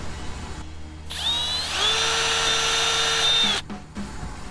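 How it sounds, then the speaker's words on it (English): A power drill whirs up to a high steady whine for a couple of seconds, then winds down, with a brief clunk after; no talking. "we'll use our drill"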